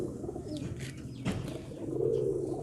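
A lively pigeon cooing close by, a low throaty coo that swells toward the end over soft background noise.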